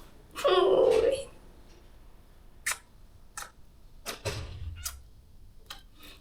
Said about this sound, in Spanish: Esta es mi gatita Naru.